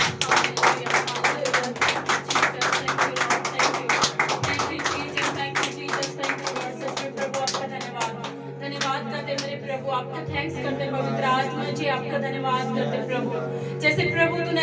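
Congregation at a Sunday prayer service clapping hands in thanks, steady rapid claps filling the room over music-like tones, loud and continuous throughout.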